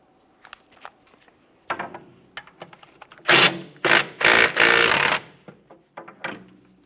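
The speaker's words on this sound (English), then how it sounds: "We're going to fully remove the first bolt to give it a quick inspection and start it back in a couple threads." A tool rattles in short bursts, then in three or four loud sustained runs, loosening and removing a 14mm brake caliper bolt on a Mitsubishi Lancer during rear wheel bearing and hub replacement, with quieter clicks and handling noises in between.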